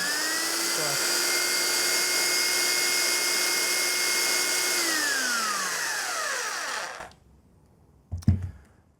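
A Triton belt sander runs at a steady high whine for several seconds, then spins down as the trigger is released, followed by quiet and a short knock near the end.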